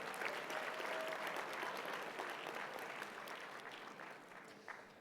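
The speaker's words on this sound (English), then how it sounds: "How about a round of applause for Rob?" Applause for Rob at a Valentine gala: a quiet, distant room of clapping hands that holds steady, then slowly thins out, with no talking over it.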